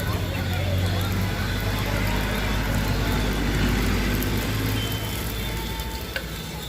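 Beef balls fry in hot oil with a steady crackling sizzle. People talk over it and passing traffic rumbles in the background.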